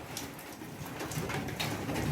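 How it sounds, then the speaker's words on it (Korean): Rain pours down steadily in a dense, hissing wash, with scattered louder drops splattering nearby on hard surfaces. "갑자기 비가 막 쏟아져서"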